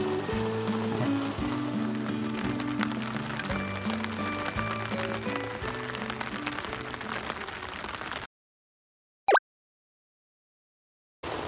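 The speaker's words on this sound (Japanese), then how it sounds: "雨ちゃん 本気出してきましたねだんだん強くなるんだけど" Rain patters steadily on a tent at a solo campsite during a growing downpour, a dense, even hiss and drumming for several seconds before a sudden cut to near silence broken by one sharp sound.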